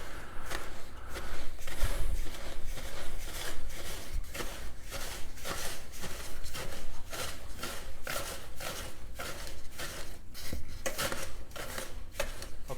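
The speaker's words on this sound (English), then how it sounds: "One of the cats decided it's a great time to play with a very noisy ball right now" A cat bats a very noisy ball around indoors, producing a steady run of rapid rattling, clattering taps that continue close and fairly loud throughout, with no talk over them.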